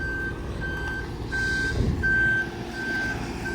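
A truck reversing in a street in Exmouth gives out a steady series of high, evenly spaced electronic beeps, with a low engine rumble and a brief hiss beneath, heard from a moderate distance.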